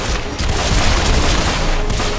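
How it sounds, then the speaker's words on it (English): Dense, loud strafing gunfire in the video game Deadfall Adventures, a continuous barrage of booming shots blending into one heavy roar throughout. "Strafing! Strafing!"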